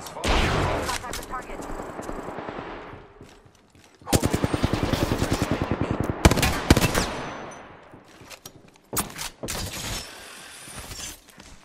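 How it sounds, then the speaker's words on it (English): Enemy gunfire in the Apex Legends video game, loud rapid automatic bursts in several separate volleys with sharp single shots and brief pauses between them. "The enemies are shooting at me."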